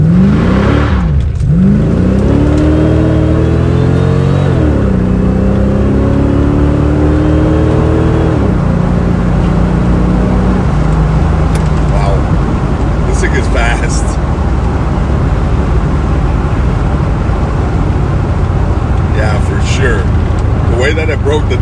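A car engine revs hard toward 4,500 to 5,000 RPM. It rises in rapid climbing sweeps, then settles into a loud sustained roar with road and wind noise, heard from inside the car.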